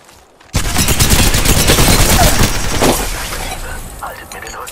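Dense gunfire and rapid shots in the video game Apex Legends burst in loud and continuous after a brief quiet start, then ease slightly toward the end, with a voice speaking beneath the shooting.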